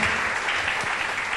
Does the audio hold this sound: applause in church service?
yes